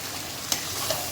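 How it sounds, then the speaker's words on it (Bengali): Chicken masala sautés in a pan, a steady hissing sizzle broken by two quick clicks of a spoon during a brief stir. "এবার আমি এটাকে মিলিয়ে দিচ্ছি, ভালো করে কষে নেবো এটা।"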